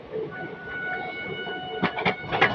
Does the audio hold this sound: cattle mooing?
no